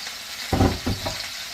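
Tomatoes are tossed in a pan with chicken, two or three quick scrapes and rustles over a low steady sizzle, close and brief, with no talk.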